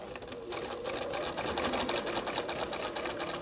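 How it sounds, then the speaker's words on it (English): A sewing machine stitches a binding down to the corner of a quilt, its needle running in a fast, steady, even chatter held close and fairly quiet for several seconds. "I'm gonna just sew that in now,"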